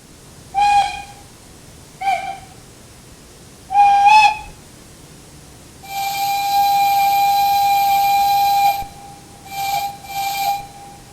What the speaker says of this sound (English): I swear that this locomotive's whistle sounds the same